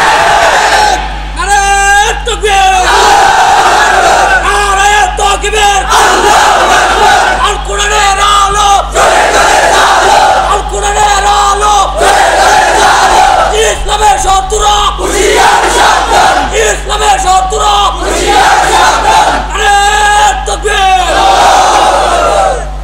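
Large crowd at an Islamic waz gathering chanting the Nara-e-Takbir slogan in loud, rhythmic repeated call-and-response bursts, with an amplified voice leading over a continuous roar.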